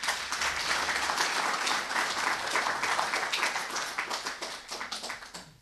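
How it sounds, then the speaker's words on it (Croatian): An audience at a promotion of the poetry collection "Stazom tamjana" claps together in a steady burst of applause that thins into separate claps as it fades at the end. "Ja mislim da i to zaslužuje aplauz"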